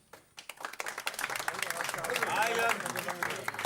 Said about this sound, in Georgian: და დიონისოს ღიმოს ვინ ემხრობა ტაში დაუკარით?